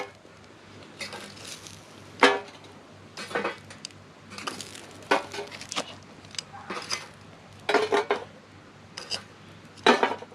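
Heat beads clinking and clattering as they are placed one by one on the metal lid of a camp oven on a Winnerwell stove, sharp irregular knocks close by over a faint hum.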